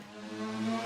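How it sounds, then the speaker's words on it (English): Shepard tone illusion, a sustained layered synthetic tone that seems to climb endlessly, steady and fairly quiet for under a second with no talking. "audio illusion where it just sounds like it's constantly going up forever."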